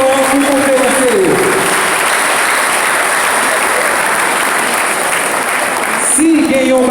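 Lecture audience giving a big round of applause for the speaker at a college event in Cap-Haïtien, dense steady clapping filling the whole stretch, with a voice talking briefly at the start and end.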